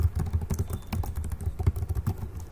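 Rapid, uneven clatter of keys on a computer keyboard, close and clear, running continuously as someone types a short line of text; no one speaks.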